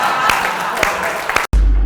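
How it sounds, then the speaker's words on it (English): Claps and cheers from a late-night show audience sound through a dense crowd wash, with a few sharper hits, then stop abruptly near the end. "That's the applause."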